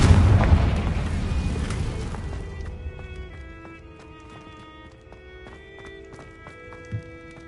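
Confringo fire spell cast in the Hogwarts Legacy video game: a loud, broad blast in the opening two seconds fades into a ringing, tonal tail, followed by a small thump near the end.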